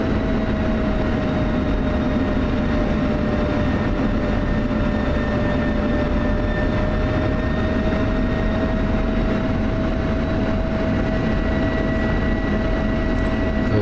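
An F-16 fighter jet taxiing with the throttle pushed forward, a steady loud engine roar with a sustained whine running unbroken throughout and no other sounds over it.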